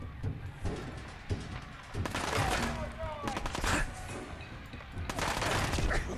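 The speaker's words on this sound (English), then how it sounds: "Who is shooting at me?" Gunfire rattles at the player in a video game, repeated rapid bursts and bangs of mid-distance shooting with thuds and crashes mixed in, coming in waves across the span.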